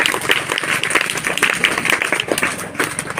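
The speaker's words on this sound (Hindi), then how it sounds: "ठीक है बेटा, इनके लिए तालियां बजाओ।" A room of children claps together on cue from their teacher, a loud, lively patter of many small hands, uneven and busy throughout, close by with no voices rising above it.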